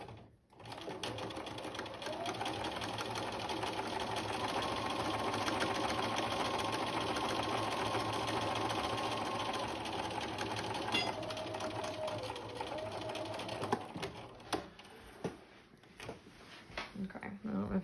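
A sewing machine runs steadily, stitching a narrow line along the seam allowance of a flat felled seam with the needle shifted left, a close, continuous motor whir for most of the stretch before stopping into small handling sounds.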